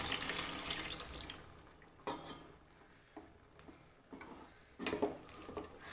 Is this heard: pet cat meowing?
no